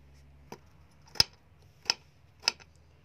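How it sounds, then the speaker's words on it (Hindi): A knife chops fresh tomatoes for camel or beef paya in four sharp, evenly spaced strikes against a board, close and clear over a faint background hum, with no talking. "यल्ला अभी हम टमाटर काट लेंगे।"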